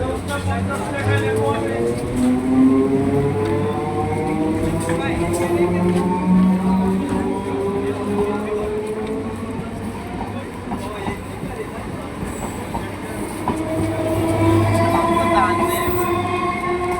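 A train rolls through Bhyabla station, a steady loud rumble with rising and falling tonal whines from the wheels and cars lasting throughout, while people talk nearby.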